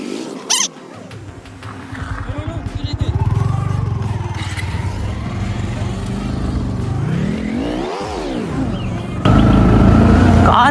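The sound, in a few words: car engine revving as it climbs uphill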